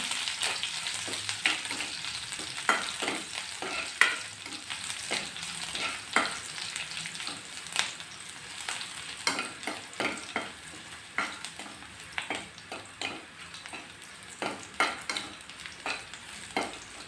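Crushed garlic cloves with their skins on sizzle in hot oil in a pan while a spoon stirs them, giving sharp repeated scraping clicks over a constant frying hiss, with no voices.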